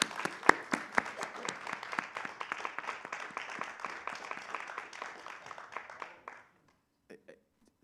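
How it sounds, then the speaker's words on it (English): An audience applauding after a call for a round of applause, a dense burst of clapping that fades over about six seconds, followed by a few scattered claps. "Can we have a round of applause for that?"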